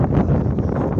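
Strong gusty wind in the Urals buffets the microphone with a loud, steady low roar and rustle, constant through the short moment, no voices.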